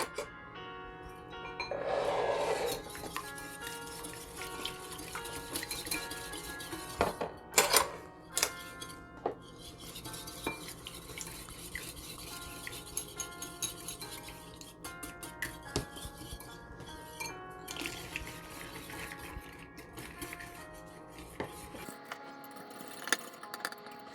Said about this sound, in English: You don't need any mixer, just mix with your spoon, fork, whatever you have, but just try to mix everything well.